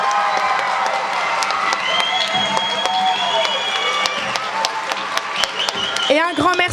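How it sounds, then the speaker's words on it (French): An audience claps and cheers for a children's school performance: scattered clapping mixed with whoops and shouting voices, lively and close, with a burst of excited cries near the end. "On peut les applaudir plus fort que ça."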